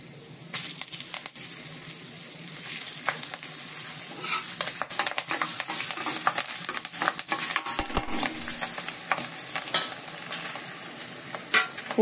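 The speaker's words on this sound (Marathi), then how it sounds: "फोडणी अशी छान तुरतुरीत झाली पाहिजे" Curry leaves and green chili sizzle and crackle in hot oil with turmeric and asafoetida, a tempering for a colocasia-leaf curry; the frying hiss runs continuously up close with sharp pops and stirring clatter throughout.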